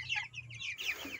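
Broiler chickens at about 45 days old cluck steadily in a Philippine poultry pen, several birds close by with overlapping busy calls and a low hum running underneath.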